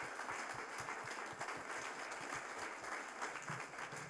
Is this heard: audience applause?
yes